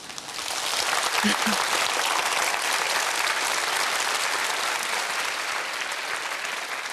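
Lecture audience applauds, a dense, steady wash of clapping that rises quickly and fills the whole stretch at a constant level.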